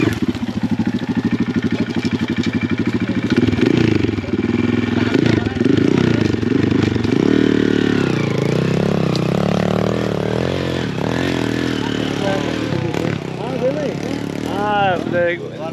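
Motocross motorbike engines at a fiesta on Guimaras Island in the Philippines, a near idling rumble with revving bursts and rising whines, over steady crowd noise and people talking.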